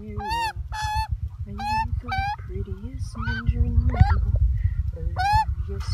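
Geese honk again and again up close, loud overlapping nasal calls in quick irregular bursts, with a rougher low rumble of noise underneath throughout.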